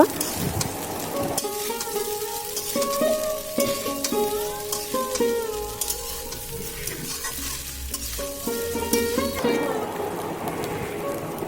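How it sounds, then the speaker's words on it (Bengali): Maggi noodles fry in a large wok, a steady sizzle broken by repeated scraping and clattering stirs, close and loud with no talk. "এই যে বড় কড়া দিয়ে দিয়েছে এবার ভালোভাবে ম্যাগিটাকে ভেজে নিচ্ছে দেখতেই পাচ্ছ"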